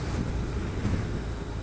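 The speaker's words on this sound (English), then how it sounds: "this wind is so windy today" Strong gusty wind roars and buffets across a motorcycle rider's microphone on an old ZR, a dense, steady rushing blast with no break and no talking.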